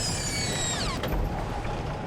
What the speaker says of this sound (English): It's nice to hear that sound. the brakes are released.